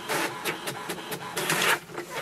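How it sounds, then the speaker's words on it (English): An HP Tango wireless printer runs through a page in a rhythmic series of whirring, clicking feed bursts, close and moderately loud with no talk. "So here you see the printer has started to print the page."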